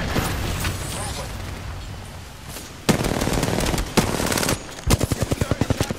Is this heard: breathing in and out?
no